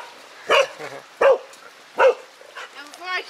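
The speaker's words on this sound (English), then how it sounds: "your dog just starts barking" Several dogs barking at a desert oasis hiking spot near Moab, Utah, four sharp barks spaced out about every second, fairly close, with a whiny yelp at the end.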